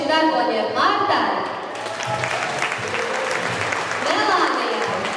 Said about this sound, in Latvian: ar lieliem aplausiem teiksim paldies šiem darboņiem Martai